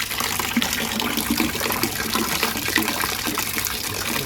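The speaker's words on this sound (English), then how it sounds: "let's add cold water to the 23-liter mark" Cold water gushes into a plastic fermenter from a home beer brewing kit, a steady, loud, close rushing splash of filling liquid that continues unbroken throughout with no talking.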